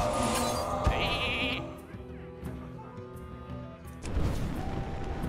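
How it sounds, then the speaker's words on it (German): In the Hearthstone card game, a Polymorph spell turns a minion into a sheep, bringing a short cartoon bleat amid the game's crunchy effect sounds, fairly quiet, with a brief burst of noise near the end. "ich verwandle den erstmal in ein Schaf"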